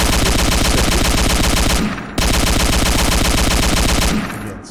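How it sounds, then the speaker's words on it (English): Loud, continuous automatic gunfire in GameGuru Max, rapid bursts with a brief pause near the two-second mark before firing resumes. "sorry about all the gunfire"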